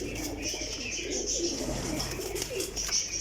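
Pigeons coo softly through a steady wash of background noise and light chirping, continuous and close, with no voices.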